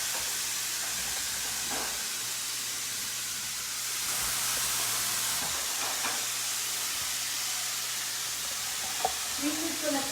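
Rosemary pork tenderloin searing in a hot pot, a steady broad sizzling hiss that runs the whole time with a few faint clinks near the end.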